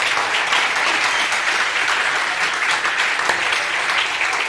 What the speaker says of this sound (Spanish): Denles aplauso fuerte al Señor.